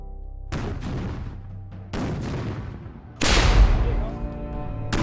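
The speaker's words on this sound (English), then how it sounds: "and increases the cannon barrage" Three heavy booms of cannon fire land a second or so apart, each followed by a long rolling rumble that fades.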